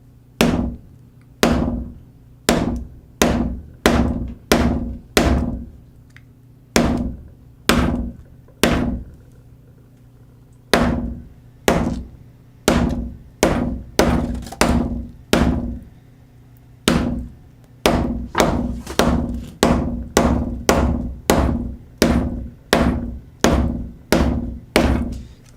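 Hammer strikes pound a phone fitted with a glass screen protector, landing as loud, close, sharp thunks in quick runs of blows with brief pauses between bursts, about forty hits in all.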